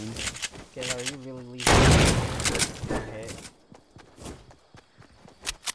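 Gunfire in the video game Fortnite, with a dense burst of shots in the middle, scattered shots and footsteps around it, and a voice talking over part of it.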